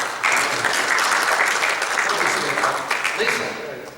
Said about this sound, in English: Why don't we give someone a round of applause?